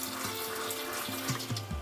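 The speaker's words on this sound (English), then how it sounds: "Running water." Water runs steadily from a motorhome kitchen sink tap while the onboard water pump hums and cycles in short rhythmic pulses underneath, close and moderately quiet, with no talking.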